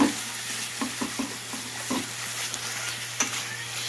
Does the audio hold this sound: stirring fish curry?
yes